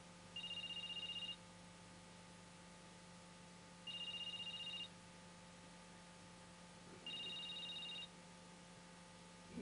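A telephone rings unanswered in a quiet room, three evenly spaced double-tone bursts about three seconds apart over low background hum, with no one picking up.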